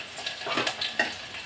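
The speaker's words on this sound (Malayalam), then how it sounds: "ചെറിയ ഉള്ളിയും കായം ഇങ്ങനെ മൂക്കണം." Shallots and asafoetida frying in a pan in a home kitchen, a soft sizzle with a few light stirring scrapes over about a second and a half, close and steady.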